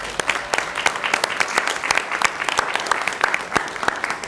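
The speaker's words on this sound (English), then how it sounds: "I would love to just give her a round of applause for that." Applause from the audience at a county board of commissioners meeting, a steady patter of many hands clapping with sharp individual claps standing out throughout, fairly close and with no talking over it.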